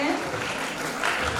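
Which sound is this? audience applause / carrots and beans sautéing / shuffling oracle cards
audience applause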